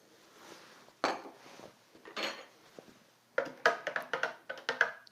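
Spoon clinking against a container while salt is stirred into a litre of unchlorinated water to make brine for lacto-fermenting vegetables; a few scattered scrapes, then a quick run of sharp, close clinks.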